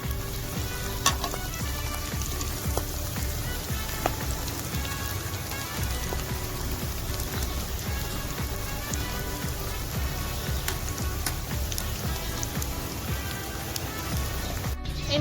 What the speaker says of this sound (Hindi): अब मैं इन्हें फुल फ्राई कर लेती हूँ तमाम को